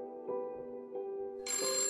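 A telephone rings alone in a quiet room, a clear electronic bell tone in repeated pulses that shifts to a brighter, higher ring near the end.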